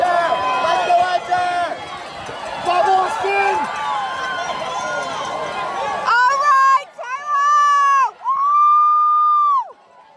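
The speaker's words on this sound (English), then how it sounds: "give them a huge round of applause" Spectators roar and cheer loudly and continuously along the course at the 2022 IHSAA boys' state cross country meet, followed by a few sustained, tonal calls rising out of the noise near the end.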